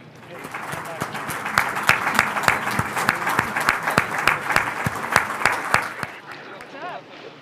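Crowd applauds steadily as astronaut David Saint-Jacques is helped out of the capsule after his return to Earth, dense clapping with scattered sharp claps and murmuring voices, fading near the end.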